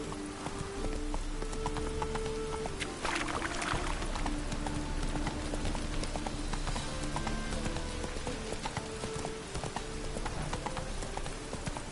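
Roach the horse trots in a video game, a steady clip-clop of hooves running through the whole stretch over a rainy outdoor ambience, with a brief whinny-like burst near the start and no talk.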